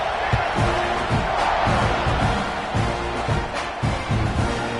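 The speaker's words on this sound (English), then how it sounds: "This crowd is buzzing after that last score." A stadium crowd in the NCAA 26 college football video game buzzes and roars after a score, a dense wash of noise with repeated thumps and swells and no clear talk.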